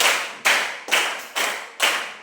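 A classroom icebreaker clapping game gives five strong, near claps in an even beat, each a crisp smack with a short fading tail, regularly spaced with nothing else heard.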